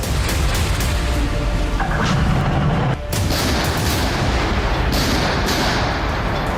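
Heavy artillery fire in war footage from the Russia–Ukraine war: a dense, continuous roar of booms and blasts at high volume, with one brief dip near the middle.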